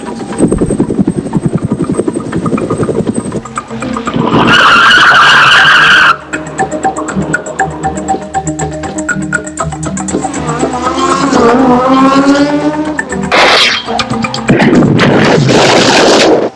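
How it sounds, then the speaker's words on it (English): A theatrical trailer for the anime film Akira plays loudly, packed with engine roars, skidding tires and helicopter-like rotor noise in bursts, with dramatic music swelling throughout. "So I'm going to play just a little trailer for Akira."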